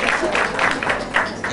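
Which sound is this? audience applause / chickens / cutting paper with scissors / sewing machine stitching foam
audience applause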